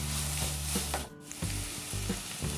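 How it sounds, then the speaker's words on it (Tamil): Tomatoes with ginger garlic paste sizzle steadily in a hot pan, with a few stirring scrapes and one brief dip in the frying noise partway through. "சேர்த்து தக்காளி நல்லா வதங்குற அளவுக்கு நம்ம வதக்கிக்கணும்"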